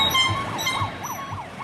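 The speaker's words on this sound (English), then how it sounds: "That siren and those air horns are the counter protesters' attempt to shut down the event." Counter-protesters at a march sound a wailing siren that sweeps up and down repeatedly, fairly distant, with faint air horn tones mixed in and crowd noise beneath.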